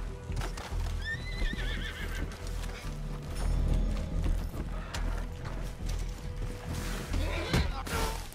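Horse in Red Dead Redemption 2 Online whinnying and clopping, with a high rising neigh near the start and steady hoofbeats over ambient game sounds and mechanical clicks, while players talk.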